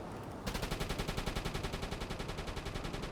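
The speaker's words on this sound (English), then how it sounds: "Shooting already." Rapid automatic gunfire in the submarine video game UBOAT, a loud, steady stream of evenly spaced shots starting abruptly and continuing without pause.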